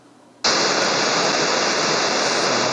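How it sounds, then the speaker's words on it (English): After a moment of faint background hiss, an ANS simulator set to a high ambient noise condition starts a pink noise test signal. The loud, steady, broadband rush switches on abruptly and holds level to the end. "So let's just start the pink noise."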